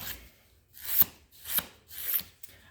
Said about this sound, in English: making sure that we don't file the nails backwards and forwards